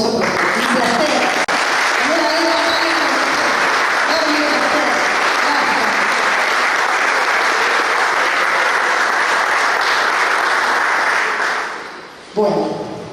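A homage crowd at a provincial party committee gathering bursts into sustained, loud applause that fills the room steadily for about twelve seconds before it tapers off abruptly and a brief clap lingers.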